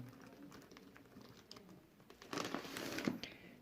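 Soft plastic bag crinkling and rustling, quiet at first, then growing louder and busier in the second half, close to the listener; a pet-shop bag of water holding aquarium fish, slightly leaking.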